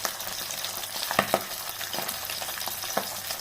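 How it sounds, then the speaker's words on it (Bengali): Pabda fish frying in oil in a wok, a close, steady sizzle with crackling pops and a few scrapes of stirring throughout. "সব মাছগুলো আমি ভেজে"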